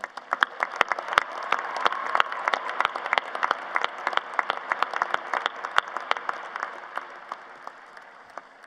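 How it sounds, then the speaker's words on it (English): Applause for the marshals at a university commencement, scattered individual claps that sound sparse and fairly distant, with sharp separate hand strikes over a thin crowd backdrop. "Let's give them all a well-rounded applause"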